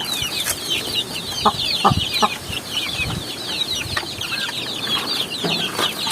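Young chicks hatched at the end of April chirp and cluck continuously in a farm brood pen, a busy layer of high peeping with a few lower clucks and soft thumps close by.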